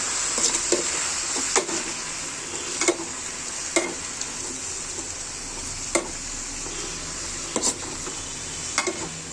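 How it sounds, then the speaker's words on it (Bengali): Spinach stir-fry being stirred in a sizzling pan, a constant frying hiss broken by sharp scraping strokes of a spatula every second or two. "নাড়াচাড়া করে দিচ্ছি"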